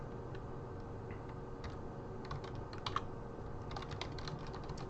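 Keys clatter on a computer keyboard as code is typed, quiet scattered taps in short irregular runs over a low steady background hum.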